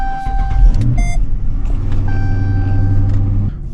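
A Dodge Charger sits running with a low, steady engine rumble. Several electronic chimes and tones ring out over it from the dashboard, loud and close inside the car.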